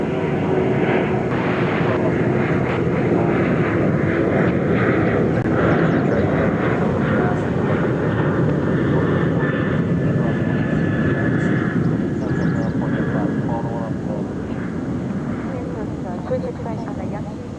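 An American Airlines jet departs from DFW Airport, a broad continuous roar of jet engines that holds steady throughout, heard at a distance with faint tonal whine.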